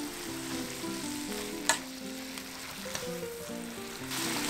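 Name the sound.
bean sprouts stir-frying with salt in a pan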